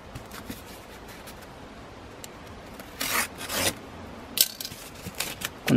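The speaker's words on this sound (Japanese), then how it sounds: "折って反対側からこの折り目を軽く刃を当てれば" A blade scores and cuts along the fold of double-walled corrugated cardboard, heard as a few short raspy scraping strokes over a steady background hiss. The cuts are close and there is no talking.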